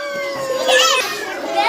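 Several children's voices imitate a cat's meow in a classroom, rising and falling mewing calls over about a second and a half, loud and close.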